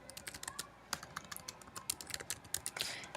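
Typing on a computer keyboard while entering a spreadsheet formula, a quick irregular run of close, crisp key clicks with a few heavier taps.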